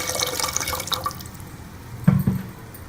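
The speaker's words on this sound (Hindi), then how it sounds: "इसके अंदर हम 1 गिलास पानी का डाल देंगे।" Water trickles and splashes from a glass into cooking masala in a pan for mash daal, ending in a short, louder pour near the end.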